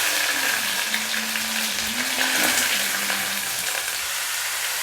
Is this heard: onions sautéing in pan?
yes